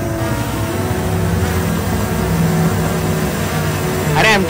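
A drone flying around overhead, giving off a steady, even buzzing whine throughout with a slight pitch sweep near the end.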